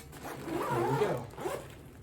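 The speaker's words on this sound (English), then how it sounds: "We can find the zipper." Zipper on the TESLANG resistance bar case being pulled open in one steady, rasping drag of about a second, with a short second tug after it, close up with no talking.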